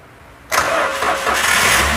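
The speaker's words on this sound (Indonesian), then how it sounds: "Oke, sekarang coba di starter, Mas." Toyota Avanza / Daihatsu Xenia engine cranked by its starter after a broken relay is fixed: quiet at first, then an abrupt catch as the engine fires and settles into a steady, loud running rumble.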